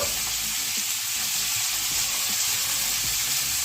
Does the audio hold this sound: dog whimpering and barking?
no